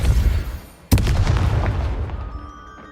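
A Depulso spell cast in Hogwarts Legacy lands as a single sharp, loud impact burst with a booming tail that decays over about two seconds, no talking over it.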